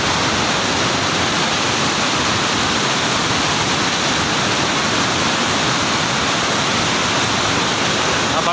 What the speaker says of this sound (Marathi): हे बघा किती स्पीडने हे पाणी सोडलं जातं